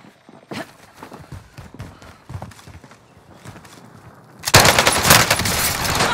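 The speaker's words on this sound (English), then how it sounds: "I'm taking fire!" Gunfire in the Call of Duty Modern Warfare battle royale, with scattered shots and footstep-like thuds at first, then a sudden loud, dense burst of sustained automatic fire in the final seconds.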